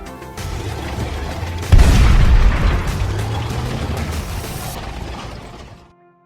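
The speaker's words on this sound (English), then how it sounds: "Tank." Military tank: a heavy engine rumble that swells into a loud clanking, grinding roar with mechanical rattling, holding steady for several seconds before fading out.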